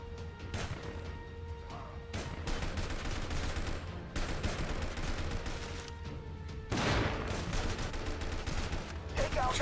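Gunfire from the video game Frontline Commando 2 crackles in dense, repeated bursts over a constant background hum, with several sharper, louder shots standing out.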